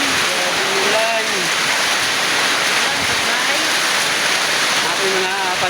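Heavy rain pours in a dense, continuous roar, with voices of people and children talking underneath.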